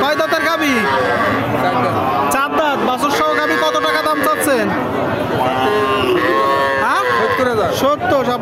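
Cattle at a roadside livestock market, including a local-breed dairy cow with a heifer calf, moo repeatedly amid a dense crowd of chatter and bargaining voices, loud and close throughout.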